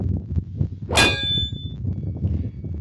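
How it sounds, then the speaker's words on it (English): A notification bell sound effect gives a single bright ding with a ringing decay over a steady low background, loud and close with no voices. "Don't forget to ring the bell buttons for the next notification."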